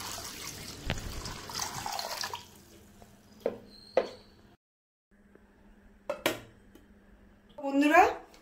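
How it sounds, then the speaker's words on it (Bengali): Sago pearls being washed in water in a kitchen bowl: soft splashing and sloshing with a few clinks of utensils against the dish, quiet and close, with pauses between. "সাবুটাকে ভালো মতো করে ধুয়ে এর মধ্যে আমি একটু জল মিক্সড করে রাখবো"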